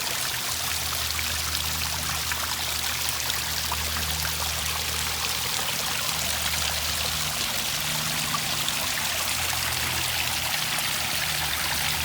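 Water from a restored concrete backyard fountain spills over the edge into the basin below, a steady continuous flowing and trickling wash, moderately close and alone throughout.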